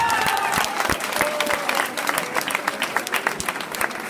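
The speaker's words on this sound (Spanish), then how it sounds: "Fuerte el aplauso" Audience applause welcomes a speaker at a gathering in Múzquiz, Coahuila, the 19th meeting of Black communities: dense, steady clapping from a crowd, with a few sharper nearby claps and faint voices mixed in.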